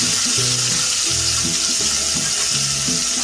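Minced garlic sizzles and crackles steadily in a hot frying pan. The sound is loud and close, with a faint low hum underneath. No one speaks.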